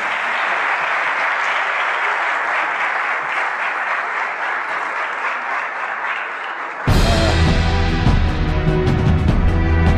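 An audience at a music awards ceremony gives sustained, steady applause for about seven seconds before loud music cuts in and takes over.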